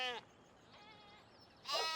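Sheep in Farming Simulator 17 bleat close by, with one loud bleat at the start, a fainter one in the middle and another loud bleat at the end, over a quiet background.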